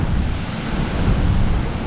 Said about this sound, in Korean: 오늘 바람이 바닷가라 그런지 바람이 엄청 부네요